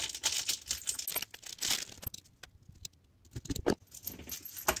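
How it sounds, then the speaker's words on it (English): Metallic jingling and small clinks from attaching a metal zipper pull to a number 9 zipper, in short bursts with a quiet pause in the middle, close by. "I need to put my zipper pull on."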